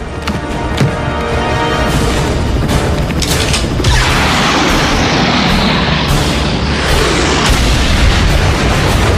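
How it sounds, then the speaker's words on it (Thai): Animated railway-track explosion: loud booming blasts and crackling bursts over a dense, rumbling roar, with sharp bangs near the start and a continuous heavy din throughout. "มันระเบิดรางรถไฟแล้ว"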